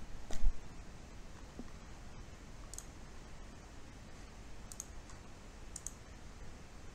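A few sharp, faint computer mouse clicks at close range, spaced irregularly over a quiet hiss.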